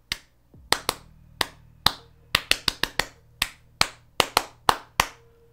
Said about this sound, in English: He was just going to clap to mock the Japanese fans.